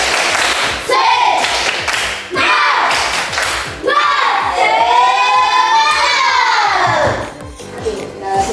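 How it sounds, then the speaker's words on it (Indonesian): Schoolchildren in a classroom do a rhythmic spirit clap, with bursts of sharp group clapping followed by loud shouted chanting from the class, close and lively. "Kita tepuk semangat dulu."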